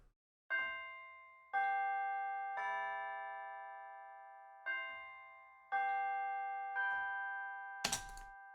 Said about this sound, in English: There's the bells, which you can't do Christmas without the church bells